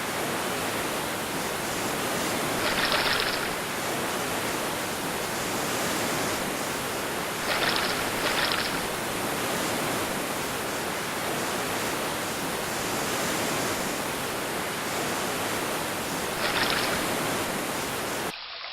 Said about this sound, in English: a rushing stream, the flowers, a waterfall.